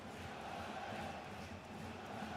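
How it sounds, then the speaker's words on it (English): A football stadium crowd in a career-mode soccer video game, a steady broad roar of many voices at moderate distance, sustained and swelling slightly, with a faint commentary voice underneath. "crowd picking up in their volume for Wigan here"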